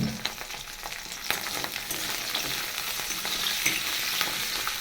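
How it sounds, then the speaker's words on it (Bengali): Dried loitta fish (lote shutki) frying with browned onions in a pan, a steady close hiss of sizzling broken by scraping stir strokes throughout, with no talk. "পেঁয়াজ ভেজে নিয়েছি, দিয়ে দিচ্ছি আমি খুব সুন্দর করে ধুয়ে নিয়েছি শুটকি মাছ"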